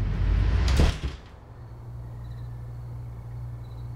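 A door closing with a single loud thud followed by a low steady hum in a quiet room.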